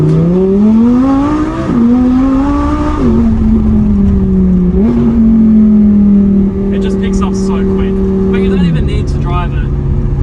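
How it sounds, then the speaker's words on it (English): A 2014 Audi R8 V10 with a dual-clutch gearbox drones loudly from inside the cabin, its engine pitch climbing and then stepping down at several quick gear changes while someone talks over it. "the gear shifts, they're instant. I'm sure you could hear it."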